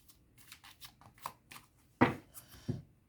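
Tarot cards are shuffled and cut in a quiet room, giving a few soft, separate riffling and snapping bursts, the loudest two near the end.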